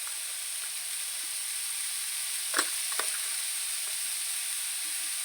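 Tomatoes with spices sauté in a pan, making a soft, steady sizzle close by. A few light clicks of a spoon stirring stand out against it, and no one speaks.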